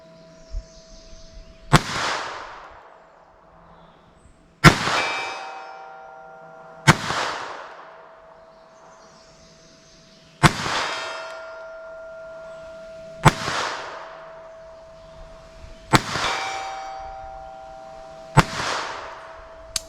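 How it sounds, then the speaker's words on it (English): A Bobcat .22 LR pistol fires about eight shots at a steel plate roughly 75 yards out, each a sharp crack followed by a faint ringing clang off the steel, spaced a few seconds apart with no talk. "I'm just going to start with this little Bobcat 22 long rifle. See if I can hit that steel plate out there"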